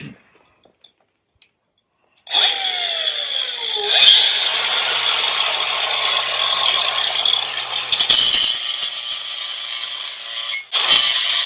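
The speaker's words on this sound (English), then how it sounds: "I'm gonna grind this up and get it ready to weld." An angle grinder bites into steel on a 27-ton Champion log splitter before welding, starting after a near-silent lead-in with a rising whine, then a loud sustained screeching grind with brief dips and pauses near the end.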